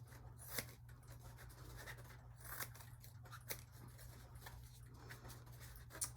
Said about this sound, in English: I'm just turning this around and shaping it with my scissors.